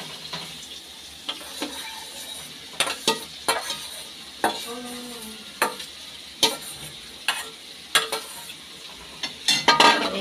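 Grated potato and paneer fry with spices in a pan, a soft steady sizzle broken by repeated sharp scraping and clinking stirs from a utensil at an uneven rhythm, close by and with no talk.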